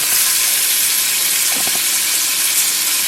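Scallops sear in a hot skillet, giving a steady, loud, broad sizzling hiss that holds evenly throughout with faint crackles and no talk.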